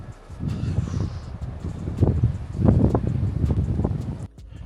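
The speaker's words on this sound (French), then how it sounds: "Ah, regardez le vent." Gusty wind buffets the microphone in rough, rushing swells, rising and falling over a few seconds outdoors, with no talking.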